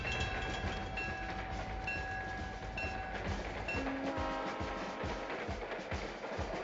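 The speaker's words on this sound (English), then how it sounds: "Now departing John Deere heaven, the John Deere Zephyr" A John Deere Zephyr train pulls out of the Lincoln Square station, with a steady rumble, a sustained tonal horn or whistle early on, and rhythmic wheel clatter building toward the end, fairly loud and continuous.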